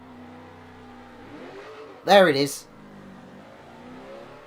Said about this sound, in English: I effectively just revved the nuts off first gear.